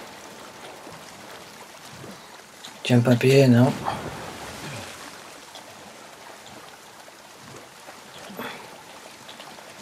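Steady low water lapping and trickling in The Last of Us Part 2 runs throughout as a character moves through water, with a brief stretch of someone talking in the middle.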